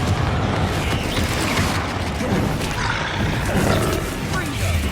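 Confringo blasting spell explosions in the Hogwarts Legacy video game, a continuous loud roaring barrage of blasts and rumbling with a voice shouting over it.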